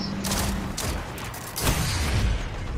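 Grenade and hand cannon fire in a video game, a dense burst of explosive booms and rapid shots layered into continuous loud combat noise.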